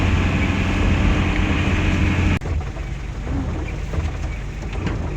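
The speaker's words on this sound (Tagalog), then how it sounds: "kahit malakas ang ulan," Heavy rain pours in a steady, loud roar for about two seconds, then cuts abruptly to a much quieter, muffled background.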